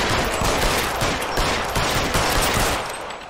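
Dense, rapid gunfire rings out in the 1940s Los Angeles setting of L.A. Noire, a loud, near burst of overlapping shots that runs continuously and fades slightly at the end.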